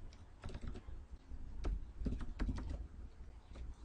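Fingers tapping on a computer keyboard, with a series of quick, light key clicks in irregular bursts that grow denser toward the middle, close and fairly quiet, with no talk.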